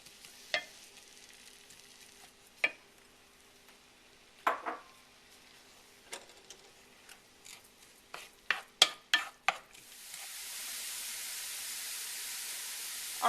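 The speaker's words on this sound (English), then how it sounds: "I'm going to add the onions, and we're going to saute them and let them get a little bit soft" Onions sauté in melted butter in a skillet: quiet, scattered utensil scrapes and taps quicken into a brief cluster, then a soft, steady sizzle swells and holds.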